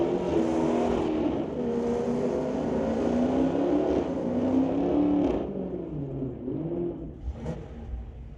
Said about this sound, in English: Bring up Dan Gray with a 1983 Ford pickup against Clayton Schultz with the 2019 Dodge Challenger, running the 392 cubic inch Hemi motor out of Coquitlam.